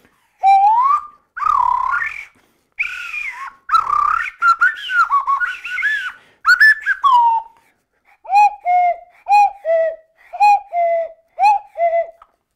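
A Kurpie wooden slide flute imitates birdsong, first with sliding, warbling whistles, then a series of short, evenly spaced chirping notes repeated in a steady rhythm, clear and close with nothing else audible.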